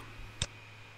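A single sharp computer mouse click, close and isolated against a quiet background with a faint steady hum.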